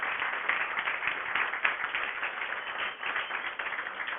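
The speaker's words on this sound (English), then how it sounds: "give her a round of applause" Audience applause after a conference talk on USB in embedded systems, a dense patter of many hands clapping steadily for a few seconds, somewhat muffled and with no talk over it.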